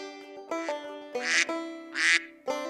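Several duck quacks ring out one at a time, some short and some drawn out and nasal, close and clear with brief gaps between them and no talk.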